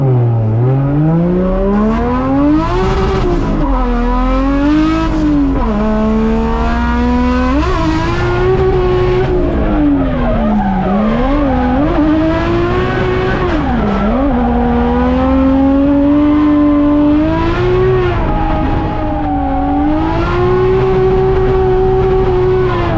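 A race car lapping a track, its engine loud and close, revs rise and fall repeatedly through gear changes and corners, with tyres squealing at times over a continuous roar.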